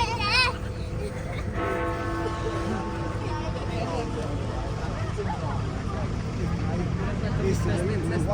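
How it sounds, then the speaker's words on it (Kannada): The Big Ben clock tower bell rings out in London, its ringing tone blending into busy outdoor ambience with people and children talking nearby. "ಹೋಪ್ ಎಲ್ರಿಗೂ ಬಿಗ್ ಬೆನ್ದು ಬೆಲ್ ಕೇಳಿಸ್ತು ಅಂತ ಅಂದ್ಕೊಂಡಿದ್ದೀನಿ"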